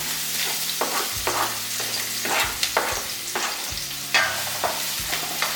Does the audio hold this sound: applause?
no